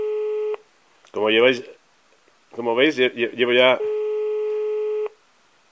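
Telephone ringback tone on an unanswered call to a doctor's office in León, Spain: a long steady electronic tone at the start and another later, with a person speaking Spanish in between.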